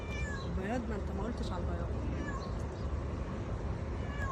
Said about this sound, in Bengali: বিড়ালগুলো মাছ খেতে